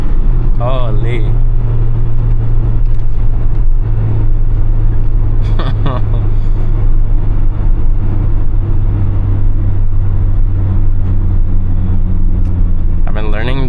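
Steady low engine drone of a 1995 Acura Integra DC4 with a manual gearbox, driving on roads near San Bernardino, with a constant in-cabin rumble and short bursts of voices over it.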